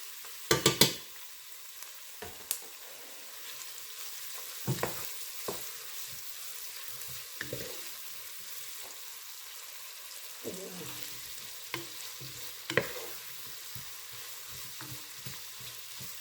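A teaspoon of minced garlic sizzles quietly in a pan for turkey wings, with a faint steady frying hiss and scattered utensil taps and clicks, a sharper cluster near the start.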